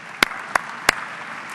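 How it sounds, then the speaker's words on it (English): A few scattered claps from an audience at a business leadership comedy event, three distinct sharp hand claps spaced out over a faint background of thin applause. "how about another round of applause for Malia and the folks you just saw?"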